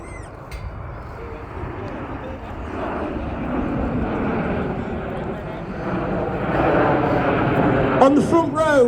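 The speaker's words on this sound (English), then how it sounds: "Team coming in from the right for the chevron roll." Red Arrows jets at the Midlands Air Festival roar in for a chevron roll, the loud engine rush swelling steadily as the formation approaches, with voices faintly audible over the roar.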